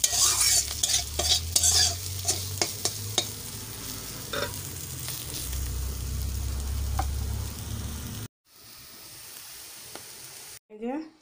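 Bitter gourd frying in oil with stirring, a steady soft sizzle broken by scraping clinks from a spatula in the pan, then fading to a quieter hiss near the end.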